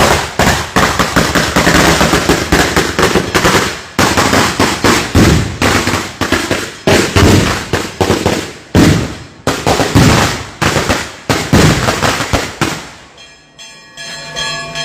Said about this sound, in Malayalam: ഈ വെടിക്കെട്ടിന്റെ സൗണ്ട് അവിടെ കേൾക്കും